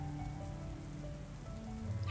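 Steady rain in a video game patters on a surface, a continuous soft hiss with faint low tonal hum underneath, no voices.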